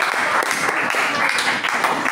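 Church congregation applauding, a dense, steady wash of clapping from many hands, close and loud, with voices mixed in.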